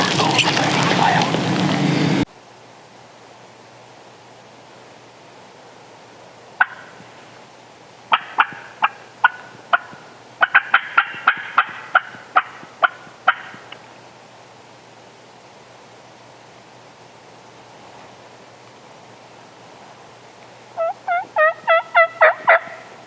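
A wild turkey gobbles during a Georgia spring hunt on opening day, a bird close by and loud: scattered sharp bursts mid-clip followed by a rapid series of rattling gobbles near the end, after a brief burst of noise at the start.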